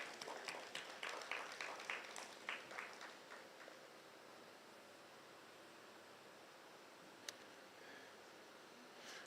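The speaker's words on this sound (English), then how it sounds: "can give them a round of applause" Applause at the launch ceremony for a court e-litigation portal in Montserrat: a burst of scattered clapping that thins and fades over about four seconds, leaving quiet room hiss. One faint click follows.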